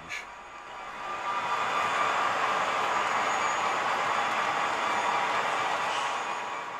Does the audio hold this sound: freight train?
yes